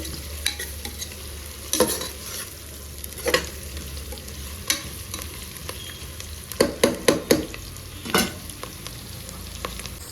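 Ginger garlic paste frying in hot ghee, with a soft constant sizzle under scattered stirring scrapes and taps of a spoon against the pan, building to a quick cluster of strokes near the end.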